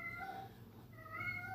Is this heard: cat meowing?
yes